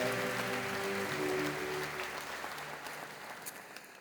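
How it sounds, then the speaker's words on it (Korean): A church congregation in a Korean Sunday worship service claps to welcome new members, a sustained wash of applause over fading organ tones, gradually thinning out. "여러분께 박수로 환영하십시오"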